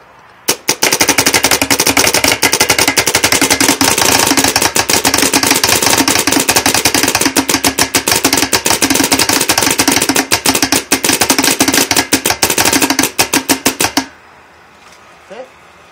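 A Valken Proton paintball marker firing in a long rapid string of loud, sharp shots, close up and nearly continuous for about thirteen seconds before stopping abruptly, followed by quiet.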